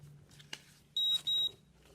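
Two short, high electronic beeps in quick succession from a nearby COLOP e-mark electronic stamp printer, following a faint click in an otherwise quiet room.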